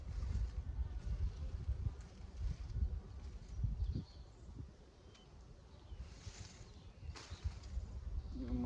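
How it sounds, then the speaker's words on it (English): Wind blowing hard around outdoor beehives, a loud, continuous rushing and buffeting against the microphone with faint higher sounds drifting through. "The wind is blowing."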